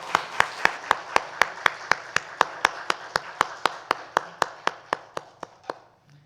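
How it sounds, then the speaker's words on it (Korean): Rhythmic clapping rings out in unison during a Sunday church service, about twenty evenly spaced claps at a steady beat. It slows slightly and fades at the end, with no voices over it. "하나님께 영광의 박수 올려드립니다."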